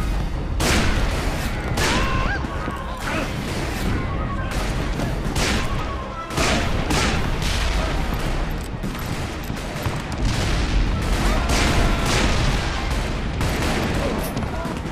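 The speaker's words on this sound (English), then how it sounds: "Shit, who's shooting me?" Enemy gunfire fills a Call of Juarez: Bound in Blood battle, loud repeated shots and bursts cracking throughout over a dense roar of combat noise.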